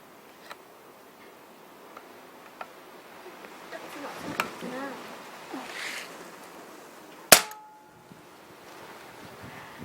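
A single sharp shot from a Pasopati Big Game air rifle cracks out once amid a quiet background of faint ticking and scattered small noises.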